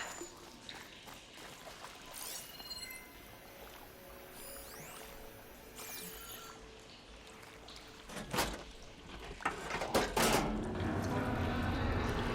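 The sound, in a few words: water flow switching in Horizon Forbidden West video game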